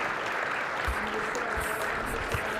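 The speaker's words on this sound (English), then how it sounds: "give them a round of applause and kavod standing as they escort" Steady, dense audience applause in a high school hall as guests are escorted out, a sustained wash of clapping from a large standing crowd with no pause.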